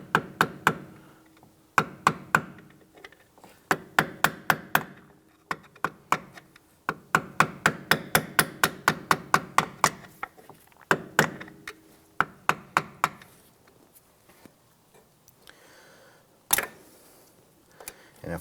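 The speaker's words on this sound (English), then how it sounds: "I want to try and tap this around and try and loosen it." A small flathead screwdriver taps repeatedly at a stuck rear ABS sensor on a 2011-2019 Ford Explorer, producing quick clusters of sharp metallic knocks in uneven bursts, close and fairly loud, with brief pauses between the rounds.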